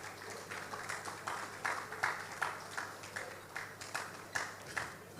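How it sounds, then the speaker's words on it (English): A modest crowd at a football awards ceremony claps for the Male and Female Footballer of the Year winners, scattered irregular handclaps at a steady, fairly quiet level throughout. "So give them a round of applause, please."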